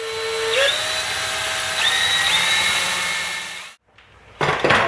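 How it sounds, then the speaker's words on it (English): A power drill whines steadily, its pitch shifting as it bites into a plastic base with an 11/16 bit, then stops briefly before whirring up again. "drill a hole in the base about where the stock wires come out anyways"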